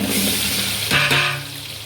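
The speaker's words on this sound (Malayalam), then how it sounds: "ഉള്ളി ബോയിലായിക്കൊണ്ട് വന്ന് നല്ല ഫ്രൈ ആയിക്കൊണ്ട് വന്ന്" Onions frying in hot oil in a pan, a loud, close, steady hiss with a brief rise as they are stirred.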